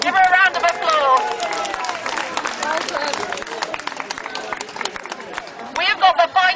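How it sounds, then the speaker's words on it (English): Crowd at a People's March for the NHS in Wakefield breaks into applause and cheering, a dense wash of clapping and voices outdoors, loud and sustained, with a fresh burst of claps near the end. "Give her a round of applause"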